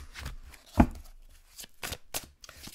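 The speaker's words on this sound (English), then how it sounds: "Let's give it a good shuffle." A chakra tarot card deck is shuffled by hand in a series of soft, papery riffles and taps with a sharper slap near the start, close and fairly quiet.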